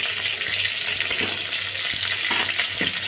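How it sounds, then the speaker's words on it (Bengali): Pieces of pointed gourd (potol) fry in a pan with a steady, close sizzle, broken by a few soft scrapes and stirring knocks as they are turned. "আবারও উল্টে দিলাম পটলটা তো একটু ভাজতে হবে"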